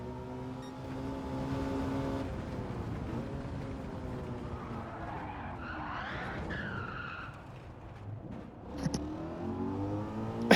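A Shelby GT350R engine drones and shifts pitch through a hot lap of the Nürburgring in Gran Turismo 7, with tires skidding and squealing as it rises and falls in steady, moderately loud passes.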